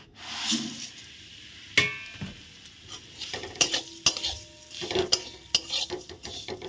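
Metal utensil scrapes and clinks against a pan in irregular bursts, with a faint sizzle underneath as vermicelli is stirred and fried in ghee.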